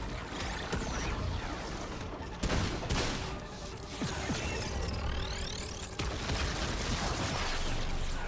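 Dense, continuous weapon fire in Remnant 2, a rapid clattering barrage with mechanical clicks and sharp bursts, steady and loud throughout with a few heavier impacts.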